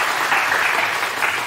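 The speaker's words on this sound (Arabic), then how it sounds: "صفقوا على مهدي الله يخليكم" Audience applause for a young singer at a Moroccan talent show, a steady dense clapping that fills the whole stretch, loud and close with no talk over it.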